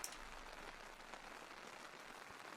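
Steady rain in a video game, a faint, even hiss of falling drops spreading across the whole stretch, with no voices.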